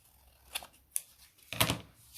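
Scissors cut through paper for a junk journal tag: three distinct close snips, each a short crisp crunch, with the last one longer and louder, alone without speech.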